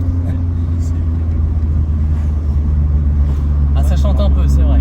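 Renault Mégane 3 R.S Trophy engine pulling hard at three-quarter throttle, a loud steady in-cabin drone with a rising note toward the end, voices talking over it.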